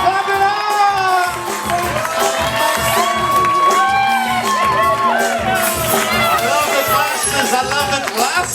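Wedding guests clap, cheer and whoop as the bridal party enters the reception, a steady, loud crowd din with shouts and voices throughout.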